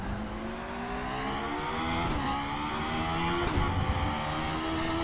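Race car engine in the RaceRoom sim racing game, a steady high-pitched whine that climbs through revs with brief dips at gear changes, loud and continuous with faint tire noise.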